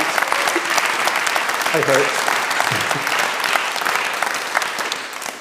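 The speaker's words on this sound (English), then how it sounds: "Let's have another big round of applause for him." An audience at an Edinburgh International Book Festival talk applauds steadily and warmly throughout, with a brief voice underneath.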